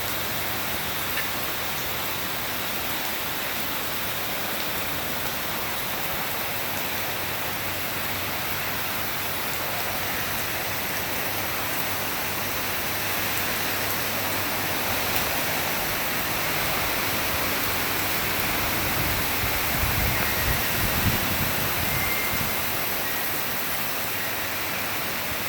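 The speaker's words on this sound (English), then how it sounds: "I don't think it could rain much harder here" Very heavy rain pours down without letup while a drain overflows, a dense, loud and steady rushing hiss that fills the whole stretch, with a slightly heavier surge of splashing near the end and no voices.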